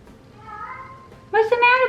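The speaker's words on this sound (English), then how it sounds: "My cat has been crying a lot today." A pet cat meows and cries, a faint thin call first and then a louder, close, drawn-out wail near the end, with no talking over it.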